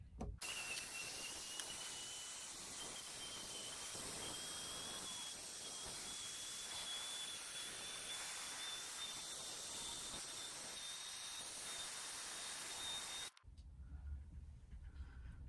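A heat tool drying paint gives a steady, loud hiss of blowing air with a faint rising whine, running continuously for about thirteen seconds, then cuts off abruptly into quiet room noise.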